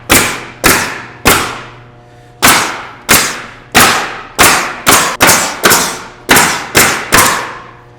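A Toolant pneumatic roofing nailer drives 1 1/4 inch nails in about thirteen sharp, loud bangs, each followed by a short decaying ring, fired at an uneven, quickening pace.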